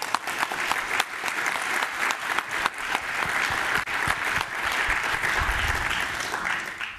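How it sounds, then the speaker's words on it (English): Conference audience applauding at the DENOG14 network operators' meeting opening: a sustained wash of many hands clapping fills the room for about seven seconds, steady and fairly loud with no talking. "So big show of hands and applause for that."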